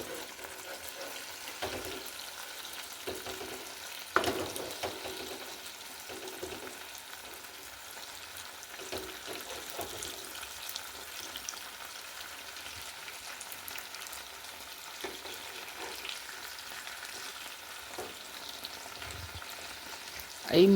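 Chicken paturi wrapped in folded madhuman leaves fries in a pan as the parcels are gently turned over. A soft, steady sizzle runs throughout, with a few small clicks and knocks from the turning.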